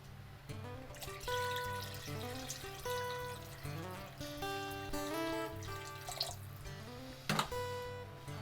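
Water running into a pan holding corned beef, a quiet, continuous pour whose ringing tone shifts as the level rises, with a few brief splashes near the end.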